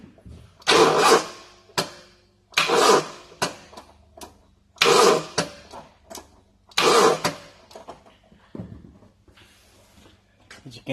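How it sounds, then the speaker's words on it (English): A car's starter motor struggles to crank an engine suspected of being seized, in four short, strained bursts of roughly a second each, separated by quiet pauses, with faint clicks between attempts. "It tries to turn, but it's just struggling."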